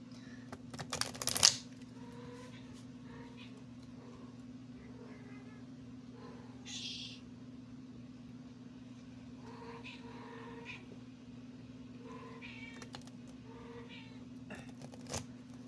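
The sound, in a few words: cat meowing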